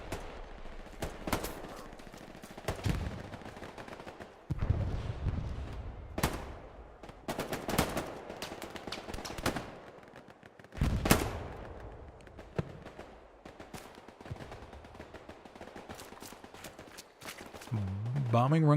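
Distant machine gun fire in the Hell Let Loose war game on the Hill 400 map comes as repeated rattling bursts and scattered shots at varying loudness, with a voice talking over parts of it.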